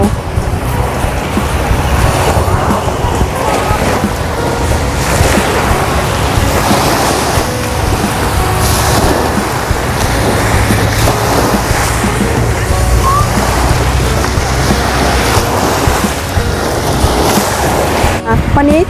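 Sea waves wash in steadily along Bangsaen beach on a drizzly day, a continuous broad roar of surf with wind buffeting the microphone and someone talking over it.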